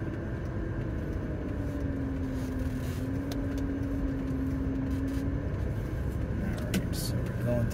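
BMW E34 driving through a residential neighborhood, a steady low engine and road rumble from inside the car with a faint rising whine, a voice talking over it.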